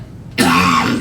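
After a short quiet moment, a single sharp, dry cough bursts out close by and then trails off into a brief rasp.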